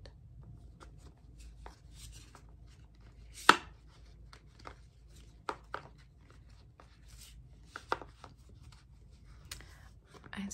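Cards riffle and slap softly in short bursts with quiet rustling between, close and fairly faint.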